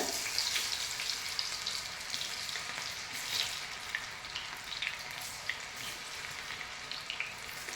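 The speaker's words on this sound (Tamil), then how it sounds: "ஆயில் நல்லா சூடு பண்ணி நல்லா ஃப்ரை பண்ணிக்கலாம்" Cauliflower 65 pieces fry in hot oil, giving a continuous bright crackling sizzle with small popping spatters, close-up and steady, with no talking.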